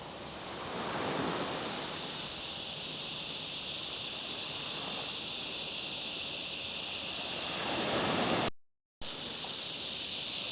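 Ocean waves wash steadily onto a rocky beach at Patonga headland, a continuous surf roar with wind buffeting the microphone and two swells building louder, interrupted by a brief silent cut near the end.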